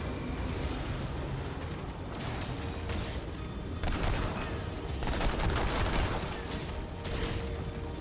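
Gunfire in the video game Remnant II, heavy bursts of shots and booming impacts piling into a loud, chaotic barrage that swells and eases in waves.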